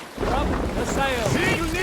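Sail being raised on a Viking sailing ship in Assassin's Creed Valhalla, with canvas rustle and wind over waves, overlaid by rising and falling voices or creaking tones.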